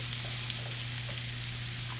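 Small onions fry in a pan for a country-style chicken curry, with a continuous close sizzle and light crackles over a low steady hum.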